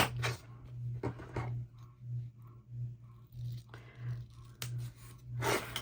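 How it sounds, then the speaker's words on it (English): Fabric scissors snip through a fabric strip for bag tabs, a quick run of short, crisp cuts repeated in a steady rhythm. "I am just going to cut mine to 1 inch."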